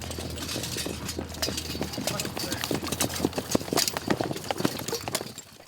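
Cavalry horses galloping during drills at historic Fort Caspar, a dense, rapid run of hoofbeats thudding on the ground, steady and loud for several seconds before easing off at the end.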